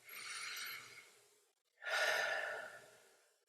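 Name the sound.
deep diaphragmatic breath in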